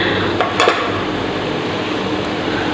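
Crushed garlic and ginger stirred into bitter gourd (karela) frying on an induction stove, giving a steady loud sizzle with a couple of brief scraping clinks near the start.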